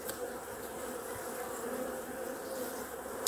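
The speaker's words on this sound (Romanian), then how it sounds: "este albină destulă." Honey bees in a hive set up for wintering hum steadily, a dense continuous buzz at moderate level with a faint click near the end and no voices.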